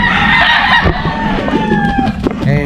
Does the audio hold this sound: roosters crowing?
yes